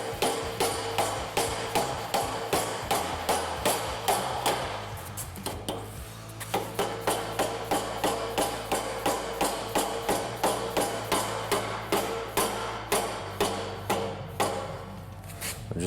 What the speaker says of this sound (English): This is where the hammer comes in.